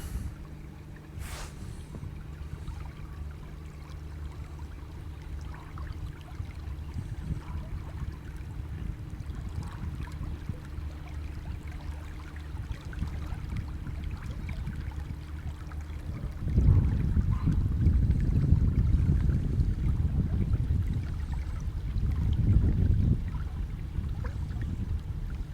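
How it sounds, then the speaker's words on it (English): A boat engine drone grows louder on the River Ant in the Norfolk Broads, swelling sharply partway through as another boat draws near, with wind and faint water noise. "Can hear another boat coming, so we're going to want to move over."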